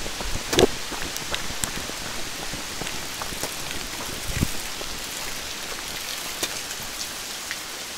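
Steady rain pattering on surfaces outdoors near a ranger's cabin, a dense even hiss broken by a few louder drips and taps close by, with no voices.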